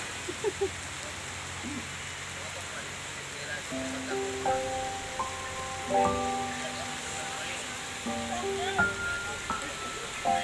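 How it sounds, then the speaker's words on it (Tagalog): Rain patters steadily on a beach, a soft continuous hiss, while tonal beeps and a distant voice rise over it midway. "Ulan-ulan kasi oh."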